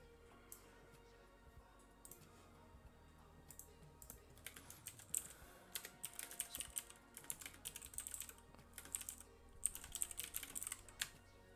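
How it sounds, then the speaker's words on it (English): Computer keyboard typing during a tabletop RPG homebrew livestream, a steady patter of quiet key clicks that grows busier and denser in the second half, heard alone without talk. "I'm going to be typing so terribly."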